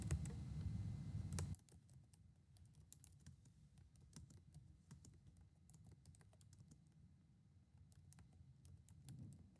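Steady, quiet keyboard typing on a computer during a lecture on CSS, close and dry with irregular clicks running throughout after a brief louder burst of noise at the start.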